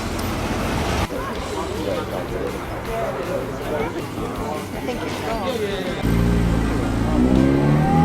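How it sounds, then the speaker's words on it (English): A small Japanese K car drives past at a classic car gathering, its engine rising and fading beneath a busy murmur of crowd voices and people talking nearby. "One of the little Japanese K cars"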